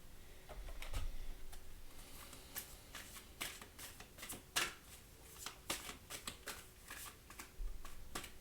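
Oracle cards shuffled for a tarot reading, a quiet run of crisp riffling flicks and soft slaps in uneven bursts, close by with no talking.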